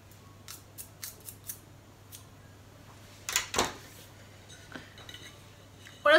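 Kitchen scissors snip food into very fine pieces for a summer roll, giving a string of crisp metallic snips that are sparse at first and then cluster in a louder burst, with a steady low hum underneath.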